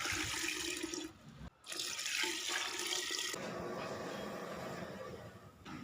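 About two litres of water pours steadily into a pot for betel leaf sherbet, a loud rushing splash with a brief break, then a continuing stream.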